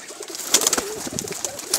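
Pigeons cooing on a large village rooftop loft, a few short soft coos close by over light flutter and background noise.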